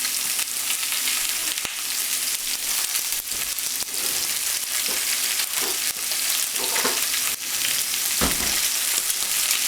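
A pan-seared pork chop sizzles steadily in a hot pan, a dense, constant frying hiss with occasional louder pops and crackles, close and alone without talk.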